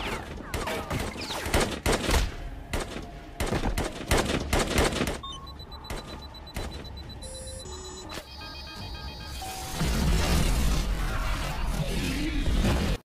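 Rapid bursts of gunfire from long-barreled rifles in a purge-night action film crackle loudly through the first half, followed by electronic beeps and a dense roaring, explosive-like rumble near the end.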